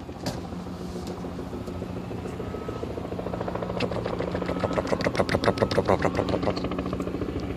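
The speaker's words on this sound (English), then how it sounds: "It's a regular civilian helicopter." A helicopter's rotor thumps rapidly and steadily, growing louder and more distinct as it draws closer overhead, with engine whine underneath.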